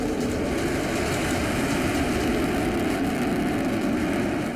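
An Indian indigenous fighter jet roars overhead in a loud, continuous, even rumble that holds steady throughout with no voices.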